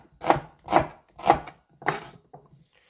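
Knife chopping through half an onion on a board, four crisp, evenly spaced strikes followed by a couple of lighter taps, close and clear with no talk, while chicken wings are braised with sweet bean paste.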